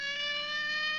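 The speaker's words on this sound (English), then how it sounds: "Dioxide turned on a siren, put on a policeman's uniform, and forced Barnaby to stop" A cartoon police siren from a Rocky and Bullwinkle episode sounds as a steady, loud electronic wail with bright harmonic tones, holding without a break and with no voices.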